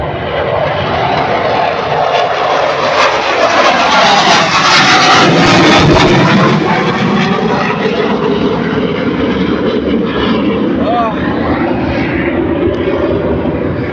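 Cebu Pacific passenger jet taking off, a loud, sustained engine roar swelling to a peak midway then holding as a broad rushing drone, close and with no talk.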